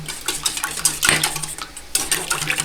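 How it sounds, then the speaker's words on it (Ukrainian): Eggs beaten with a wire whisk in a bowl, a rapid run of close metallic clinks and taps against the bowl's sides, continuous for a couple of seconds with no talking. "За цей час я вінчиком збиваю добре яйця."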